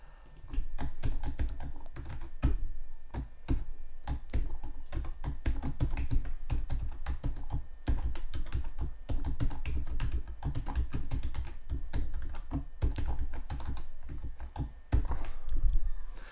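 Rapid typing on a computer keyboard while writing jQuery code, dense irregular key clicks and taps close up, continuous for the whole stretch with brief gaps and no talking.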